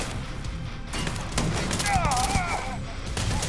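Turret fire from a hostile ship in the space game Starfield, a rapid, steady burst of loud shots with whooshing tones sweeping through the middle of the stretch.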